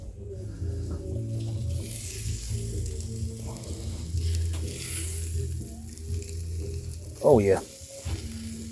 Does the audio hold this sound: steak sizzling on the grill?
yes